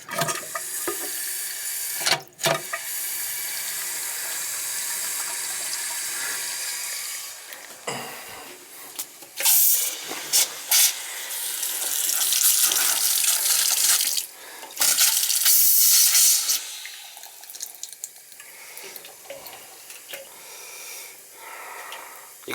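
Water runs from a tap through brass pipes beneath a floor, a bright hissing rush that starts and stops several times, swelling louder in bursts, with occasional thumps and handling noises between flows.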